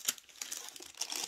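A plastic goodie bag from a handmade scented-wax order is handled, giving sharp, close crinkling and rustling in several quick bursts with no talk.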